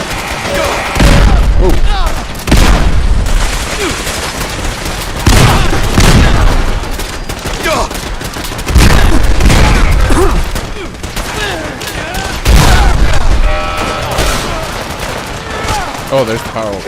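Power grenade blasts go off amid a Fallout 4 battle with Sim Settlements 2 troops. Heavy booms recur every few seconds over rattling bursts of gunfire, loud and close throughout.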